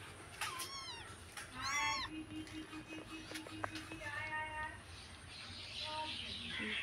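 A small kitten meows in a few clear, rising cries near the start, then gives softer, shorter calls against low household background noise.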